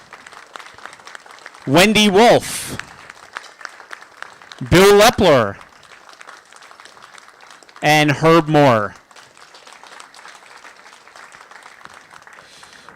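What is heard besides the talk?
audience applause for departing board members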